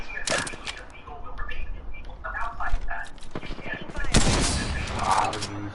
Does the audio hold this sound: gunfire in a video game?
yes